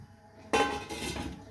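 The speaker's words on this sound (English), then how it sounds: "Just put the lid on." A metal lid set onto a cooking pot of pastitsada, a Corfu beef and bucatini dish, giving a single sharp clink with a short ringing tail and a softer settling clatter just after.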